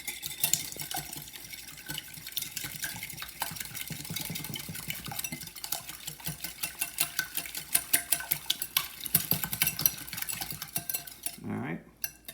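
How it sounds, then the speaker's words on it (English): Two eggs are beaten in a bowl for muffin batter, with a fast run of clinking utensil strokes against the dish, close and rhythmic, ending in a brief clatter. "we want to beat the eggs"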